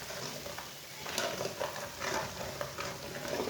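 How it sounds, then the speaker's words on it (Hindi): Spices for aloo palak cooking over low heat in a pan, a soft steady sizzle with light stirring scrapes rising and falling, close and fairly quiet. "मसालों को लाजमी हल्की सी आंच पर थोड़ा सा पका लेना।"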